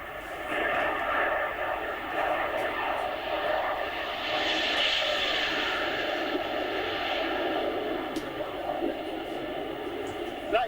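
Airplane passing low overhead with no landing gear down at RAF Kemble, a loud sustained engine roar that swells and fades across the pass, with someone speaking under it.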